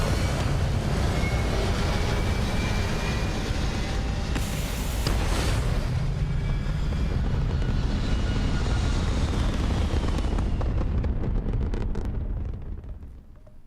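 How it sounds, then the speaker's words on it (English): A spaceship's engines roar at liftoff in the video game Starfield, a loud, sustained rumbling blast that holds steady, swells once midway and fades out at the end. "Ready for liftoff. Saved my whole evening there. Liftoff complete."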